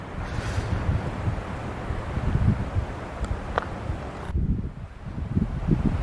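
Strong gusty wind through pine trees on a blustery hike, a rushing, rumbling roar with microphone buffeting that swells and eases, with no talk.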